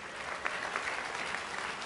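Audience applause at a 2019 college commencement, a continuous wash of many hands clapping at a moderate distance, steady and fairly soft.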